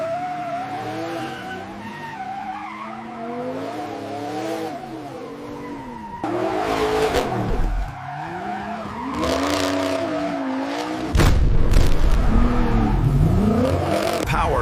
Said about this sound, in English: This is the Mustang GT.